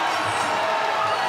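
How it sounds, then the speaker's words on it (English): A packed crowd roars and cheers after a head-kick knockout ends a Muay Thai fight between Albert Tu'ua and Nick Browning, a dense, steady wall of loud crowd noise throughout the short moment. "And the crowd have gone absolutely bananas."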